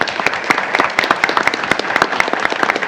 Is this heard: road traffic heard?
no